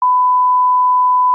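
A clean, steady electronic censor bleep, a single pure tone held unbroken for just over a second.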